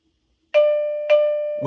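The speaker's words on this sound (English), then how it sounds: "Ring the video doorbell." An OhmKat doorbell chime paired with a SimpliSafe video doorbell chimes twice, two clear ding tones in quick succession ringing on, followed by the start of a voice at the end.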